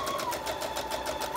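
A sewing machine stitches a fabric piece onto a junk journal page, making a quick, steady mechanical whir with rapid rhythmic needle pulses, close and moderately loud.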